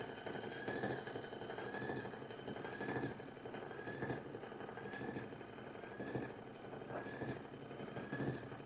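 A sewing machine stitches an applique satin stitch for an Accuquilt project, its steady mechanical whir and rapid needle thumping running continuously and close throughout, with a faint recurring higher squeal and no voices.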